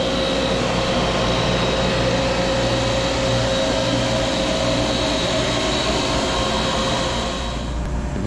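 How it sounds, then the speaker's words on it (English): Refrigerant being recovered from a walk-in refrigerator system, a loud, steady mechanical drone and hiss from the recovery machine that holds level before easing off at the very end. "We're now recovering the refrigerant."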